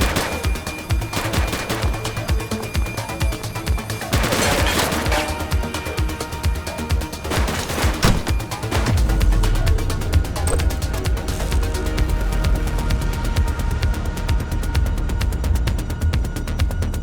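Rapid gunfire from a police video game, with bursts of shots in the first half giving way to a denser, louder spell of shooting and a heavy low rumble in the latter part, all loud and close.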